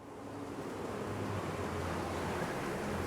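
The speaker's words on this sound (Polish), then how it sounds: "Ale porywy wiatru" Steady gusting wind on an exposed world in Star Wars Jedi: Fallen Order, a broad continuous roar that swells slightly and stays loud and even, with no voices.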